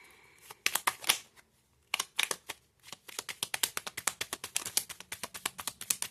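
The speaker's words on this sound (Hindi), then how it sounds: "नो, मेरे को फिर से शफल करना है।" Tarot cards shuffled by hand in quick riffling bursts of rapid, crisp flicking taps, close and clear, with short pauses between the bursts.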